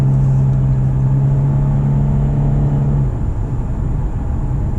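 A 2019 Lexus RC300 AWD engine holds a steady, loud mid-pitched drone while accelerating, the revs hanging high for about three seconds before easing off into a lower rumble.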